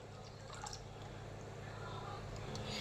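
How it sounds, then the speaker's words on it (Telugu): Water poured from a glass into tomato and drumstick rasam in a cooking pot, a faint, steady liquid pour and trickle lasting a few seconds. "ఇంకొక 1 గ్లాస్ వాటర్ వేసుకుందామండి."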